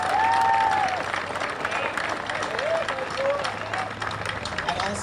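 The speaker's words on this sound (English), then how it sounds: "let's give them a round of applause" Outdoor crowd at the Soldier Ride NY event in the Hamptons claps for Wounded Warrior riders, a steady round of applause with some voices, a whistle and cheering mixed in.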